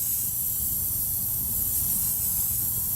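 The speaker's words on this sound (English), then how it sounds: "Trusty brake cleaner." Brake cleaner hisses steadily from an aerosol can onto oily cement in one continuous spray, close and fairly loud, with no pauses and no voices.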